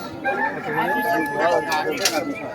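Rooster among local desi chickens at a busy outdoor market, crowing in a wavering call close by while people talk and bargain over it.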